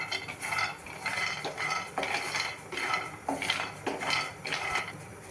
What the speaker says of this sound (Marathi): फ्राय पॅन गरम करायला ठेवलं होतं गरम झालेलं आहे आता त्यामध्ये आपण बदाम घालूया आपल्याला तीन ते चार मिनटं मंद गॅसवर हे भाजून घ्यायचं आहे